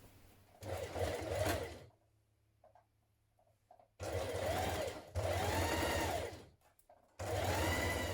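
A sewing machine stitches a bodice dart on a 1970s vintage wrap dress, running in three loud, close bursts of steady whirring with short pauses between runs.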